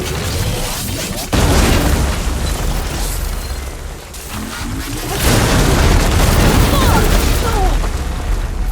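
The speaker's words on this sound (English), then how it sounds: "Hopefully the Denal can fire a few shots from that ballista." Heavy booming blasts and explosive bursts from a ballista firing at a huge burrowing machine in Horizon Forbidden West, loud and sustained over a rumbling battle din, with a sharp onset near the start and a second surge midway.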